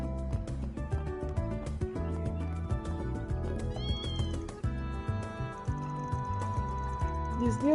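A kitten in the game Trails through Daybreak meows over a steady, busy music bed, with a short rising mew near the middle, voices speaking briefly around it.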